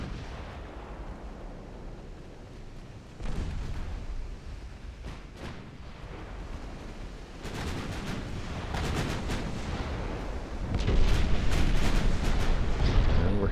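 Battleship main guns fire in the naval wargame Ultimate Admiral Dreadnoughts, set in a 1903 French campaign. Heavy booms and crackling salvos come in irregular bursts over a constant low rumble and build louder toward the end.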